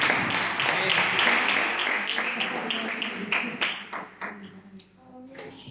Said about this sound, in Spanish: Le damos un aplauso al Señor y a nuestra directora de hoy.